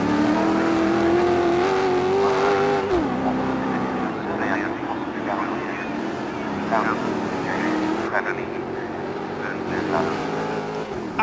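A pickup truck's engine races and revs hard in the DiRT 4 rally game, a loud sustained drone that rises and dips with gear changes while someone talks over it.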